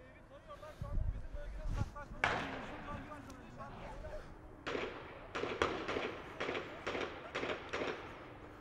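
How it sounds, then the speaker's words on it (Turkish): Sharp bursts of gunfire crack out in irregular volleys during a police raid on a Hezbollah cell house in Beykoz, Istanbul, some close and loud, others more distant, with shouting voices in between. "Silah sesinden başka aslında bir şey duyulmuyor."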